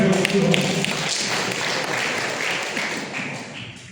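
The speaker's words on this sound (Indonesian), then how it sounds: "beri tepuk tangan" Congregation applauding at a church reunion service of GPPS Kaliasin, a steady wash of hand claps that slowly tapers, with a voice faintly present.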